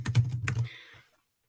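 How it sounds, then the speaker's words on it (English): Computer keyboard typing as a comment is entered, a quick close run of soft key clicks for about a second, then fading to silence. "I can actually start typing on them"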